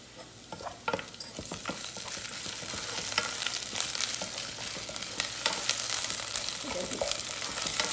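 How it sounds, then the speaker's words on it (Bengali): Onion paste and garlic paste frying in oil for a vegetable dish, a dense close sizzle with steady stirring scrapes throughout and no talking. "ভালো করে এখন কষা নিব"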